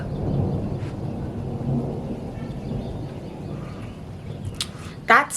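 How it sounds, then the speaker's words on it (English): Low rolling thunder rumbling outside an open window ahead of rain, a long deep distant roar with a sharp louder burst near the end. "thunder that's going on currently because it's about to rain"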